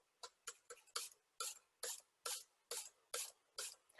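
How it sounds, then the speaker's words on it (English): Black Art Studio spray paint hisses onto a canvas in about a dozen short, light bursts, close and quiet, spaced in a fairly regular rhythm with brief silences between them. "all I'm going to do is lightly spray it"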